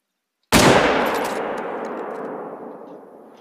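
One loud rifle shot in the hunting game theHunter: Call of the Wild cracks sharply out of silence, then rolls away in a long echoing tail that fades over about three seconds.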